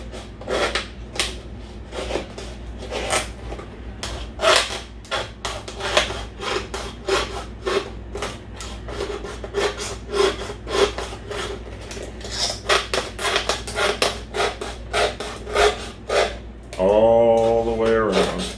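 A sharp knife scraping and sawing its way around a plastic water bottle in rapid rasping strokes, loud and close, ending in a brief crinkle of the plastic; no one speaks.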